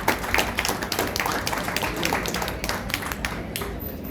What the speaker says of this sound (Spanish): ¿Me regalan un aplauso para ellos,